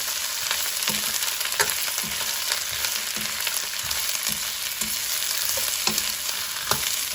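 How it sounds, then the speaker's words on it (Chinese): Chinese cabbage stems stir-fried over high heat for sautéed cabbage with vinegar: a steady, close sizzle runs throughout, with spatula scrapes and taps at a regular rhythm. "倒入全部白菜帮，转大火慢慢翻炒"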